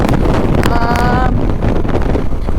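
Cool wind blows across a road near Hosapete in India while travelling toward Solapur, a loud, continuous buffeting rumble against the microphone that carries on from start to end.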